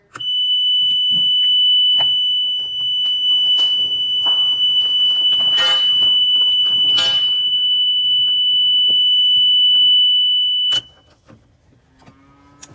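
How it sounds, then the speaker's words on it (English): A utility buggy's feeding buzzer drones loudly, a continuous high-pitched electronic tone for about ten seconds, with some clatter and mechanical noise around it, then cuts off abruptly. "That's a feeding buzzer."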